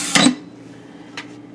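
An Instant Pot's metal inner pot clanks once sharply up close, followed by a faint metallic tap a second later, with a low hum underneath.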